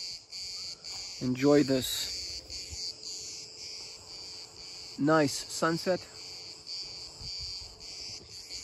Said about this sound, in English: I'm just gonna chill here with the sound of cicadas.